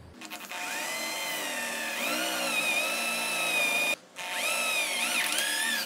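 A power drill bores into iron with a thin bit while making a rustic iron hinge, a loud, steady high-pitched whine that rises in pitch, cuts out briefly, then resumes.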